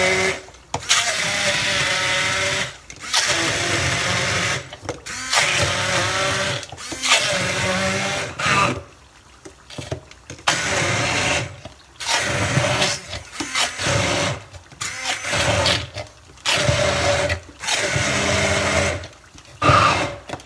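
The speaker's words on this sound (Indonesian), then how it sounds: "Kita blend bumbu tadi, cabai, bawang merah, bawang putih ya." A kitchen blender grinds a spice paste of chili, shallots and garlic in repeated loud whirring bursts of a few seconds each, separated by short pauses, with no talking.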